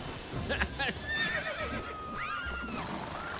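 A horse in The Witcher 3 rears up and kicks, giving a loud shrill whinny that rises and wavers twice, with hoof clatter and a voice talking underneath.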